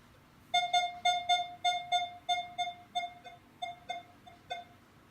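A Minelab Equinox 600 metal detector set to iron bias 3 and recovery speed 3 sounds a rapid string of about a dozen clear tonal beeps during a dime air test, the pulses slowing and fading slightly toward the end.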